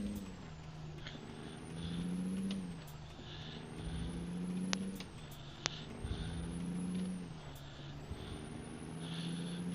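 A heavy truck engine in American Truck Simulator climbs in pitch, drops as each gear shifts, then climbs again in a repeating cycle, with a couple of sharp clicks and a faint high whine above the engine drone.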